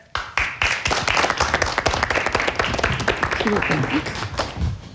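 Dense clapping from a lecture audience fills the whole stretch, steady and loud, with scattered voices mixed in.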